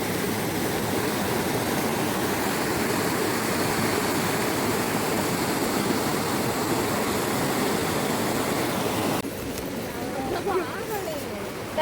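A waterfall pours near a village in lush monsoon countryside, a steady broadband rush of falling water that stays constant and fairly close for most of the stretch, then thins and shifts near the end.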